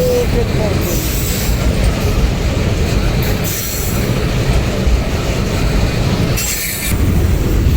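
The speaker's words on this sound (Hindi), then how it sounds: "ये शोर सिर्फ ट्रेन का आता" A train passes near a rural highway in Pakistan, a loud continuous rumble with wheel squeal and rattling cars throughout, and a voice talks faintly beneath it.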